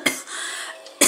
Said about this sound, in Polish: Mnie oczywiście kaszel dalej męczy